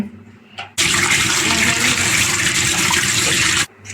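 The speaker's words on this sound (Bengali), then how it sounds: "এরপর এটাকে সুন্দর করে ধুয়ে নিতে হবে, ভালো করে ধুয়ে নেব এটাকে।" Sliced potatoes are rinsed under a steady rush of running water, a loud continuous splashing flow lasting about three seconds before cutting off abruptly, with quieter handling noises before and after.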